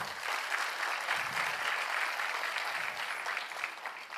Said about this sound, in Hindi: ताली बनती है भाई।